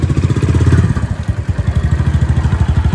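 A motorcycle engine turns over and catches, running with a loud, close, rapid chugging pulse throughout, with no talk.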